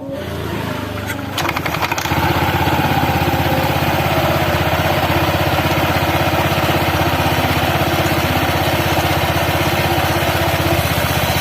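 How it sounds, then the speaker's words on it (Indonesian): After a few clicks and a starter crank, a Honda PCX 160 scooter engine fires up and settles into a steady, loud, close idle. "Tinggal kita hidupkan ya teman-teman motornya."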